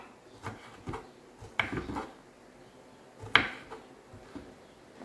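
A knife chops banana peels for homemade fertilizer, sounding as a few irregular sharp taps and clacks on a board with quiet gaps between them, close and alone.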